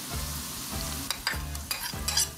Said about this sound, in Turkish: Salçamı şimdi birazcık kıymamla beraber kavuracağım